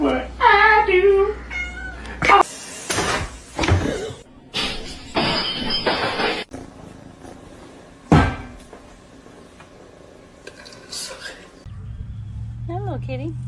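A pet cat gives several clear meows, mixed with people talking, sharp clattering knocks and household noises, with another short meow near the end.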